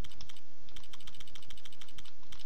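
Rapid, crisp keystrokes on a computer keyboard enter a cheat code for Lego Star Wars: The Clone Wars, a quick irregular run of clicks with brief pauses and no voices.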